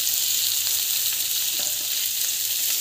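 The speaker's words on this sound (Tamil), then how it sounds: "சீரகம் வந்து போடுறோம் இதெல்லாம் போட்டு நல்லா வதங்கட்டும்" Fennel and cumin fry in oil, a dense, even hiss of sizzling that stays steady and close throughout with faint stirring taps underneath and no voices.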